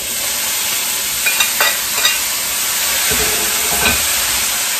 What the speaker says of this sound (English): Oh you hear the sizzle on that pan?